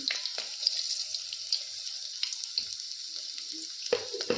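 Garlic and mustard seeds sizzle in hot coconut oil for a tempering, a bright, close frying hiss with intermittent crackles and pops and a few soft clinks, with no talk.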